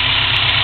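A vehicle engine idles with a low, steady rumble close by, a brief continuous stretch with no voices.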